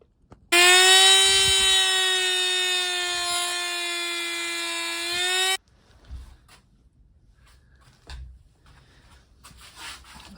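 A power tool polishes rust off a Yamaha TTR250 motorcycle part with one loud, steady whine of about five seconds, followed by faint handling clatter.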